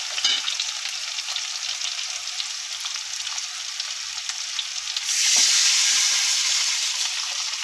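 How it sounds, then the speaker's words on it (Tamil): Spices for rasam temper in hot oil with a continuous bright sizzle that suddenly swells louder and hissier partway through. "இப்போ ரசம் தாளிச்சு விட்டாச்சு."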